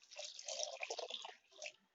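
Water is poured into semolina in a bowl to soak it for rava dosa batter, a soft, quiet splash and trickle lasting about two seconds.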